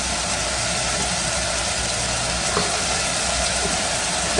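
Ground meat for chili browning in a pan, a loud, steady sizzle and crackle that holds without a break, with a few faint clinks near the middle and no talking.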